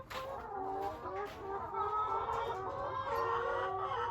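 Chickens clucking and calling as they are let out of their coop, several birds clucking close by in overlapping bursts, steady and moderately loud, with no talk.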